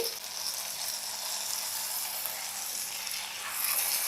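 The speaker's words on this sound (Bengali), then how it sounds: "উল্টিয়ে পাল্টিয়ে মাছটাকে আমি ফ্রাই করে নিয়েছি" A whole big fish frying in a pan of oil, giving a steady, dense sizzle that holds evenly throughout and swells slightly louder near the end.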